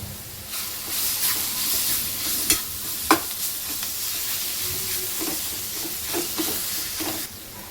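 Onion chutney seasoned with salt and chili powder is stirred in a hot pan, giving a continuous soft sizzle broken by a few sharp scrapes and clinks of the spoon against the pan.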